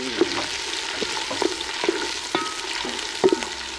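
Onions frying in a pan over a village cooking fire, a steady broadband sizzle with occasional sharper clicks and pops, close and alone with no talk.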